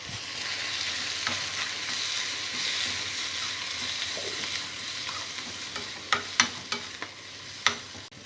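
Fenugreek leaves frying with onions and turmeric in a pan, a soft continuous sizzle with a few clicks of a spoon against the pan near the end.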